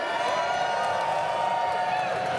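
Crowd cheering at a Dota 2 event in Copenhagen, a continuous dense wash of arena noise and voices, held at a steady level throughout.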